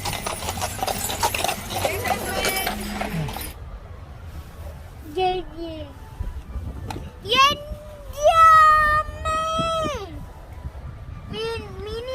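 Horse hooves clip-clop during an outdoor Christmas lights display, the steady clopping heard alongside children's chatter and high, wavering voices.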